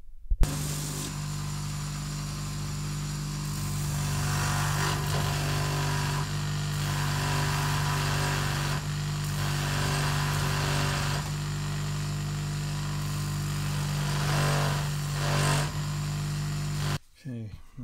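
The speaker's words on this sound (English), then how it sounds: "What I'm going to do on my sanding wheel is just run around these edges, true them up, make it nice and smooth, uniform." A motorized sanding wheel hums steadily as leather edges of a steel-lined rig are trued and smoothed, with rising and falling grinding passes over the constant motor drone.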